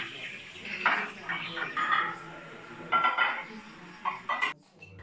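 Dishes, pots and cutlery clink and clatter in a home kitchen while a meal is cooked and the table is set for guests; short, irregular bursts of clatter come close by, separated by brief quieter gaps.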